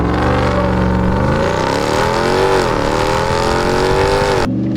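A Ram TRX pickup truck launches hard in sport mode, its engine roaring loud and close with a rising, continuous rev before cutting off abruptly at the end.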